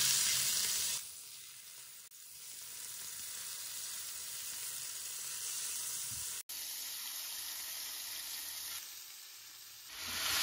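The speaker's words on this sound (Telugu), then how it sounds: "ప్యాన్ పెట్టుకొని హీట్ చేసుకొని ఒక 1 టేబుల్ స్పూన్ ఆయిల్ కానీ బటర్ కానీ వేసుకోండి. అయిన తర్వాత మనం ముందుగా మ్యారినేట్ చేసుకున్న చికెన్ వేసేసుకోండి." Marinated chicken for a white chicken korma fries in a tablespoon of oil or butter in a pan. A steady, bright sizzle hisses close by, briefly cut off midway and then resuming.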